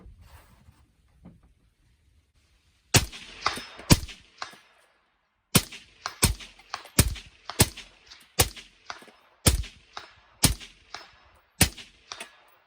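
Allegiance gel-test rounds fired from a handgun ring out as a quick, uneven string of about fifteen sharp, loud cracks. Each shot decays briefly into near silence between the reports.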